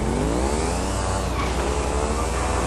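Steady, close motorcycle engine from a GTA game, a continuous revving drone with a slight rise in pitch, heard alone with no talking.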